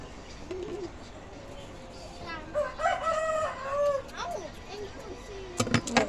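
A single rooster crow rings out clearly near the middle over a low rural background, followed by brief clucking and faint voices.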